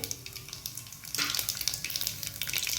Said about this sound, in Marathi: तेल छान तपलं, अर्धा चमच मोहरी टाकायची।